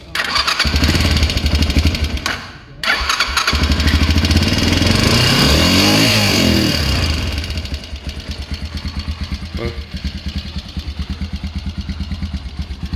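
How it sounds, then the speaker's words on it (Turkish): Motorcycle engine starting up and running close by: a loud steady roar with a brief cut and restart, a rise in revs, then a settled rhythmic idle. "Motorning ovozini anglayla."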